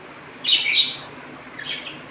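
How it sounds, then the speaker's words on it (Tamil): Pet lovebirds at home give two bursts of high, shrill chirps and squawks, a louder cluster first and a softer one after a short pause, fairly close with no talking. "எங்கள் வீட்டில் அந்த லவ் பேர்ட்ஸ் கீச் பிடிச்சி கீச் பிடிச்சி கத்திக்கிட்டே இருங்க"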